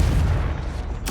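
A Confringo fire spell from Hogwarts Legacy bursts with a deep, close boom and rumbling low-end tail, followed by a sharp bright crackle at the end, loud and alone.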